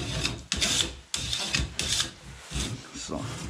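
Rough scraping and rasping against a barrier wire mesh during cleaning, repeated in short strokes of rubbing noise, close and moderately loud, with an occasional chalk-like squeak.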